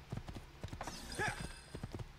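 Hooves clip-clop in a quick, uneven rhythm while a horse whinnies briefly in Assassin's Creed II. Faint voices are audible underneath.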